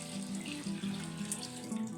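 Water pours steadily from a jug into a cooking pot for a boiled butt (tripe) curry, a continuous splashing gurgle at close range with no voices.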